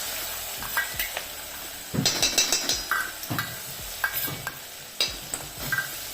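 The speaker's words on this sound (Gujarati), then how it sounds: "એને થોડી વાર સાંતળવા દઈશું." Dry garlic, green garlic and chili paste sauté with whole spices and asafoetida in a pan, a steady sizzle broken by repeated scraping stirs and light clinks of a spoon against metal, close and moderately loud with no talk.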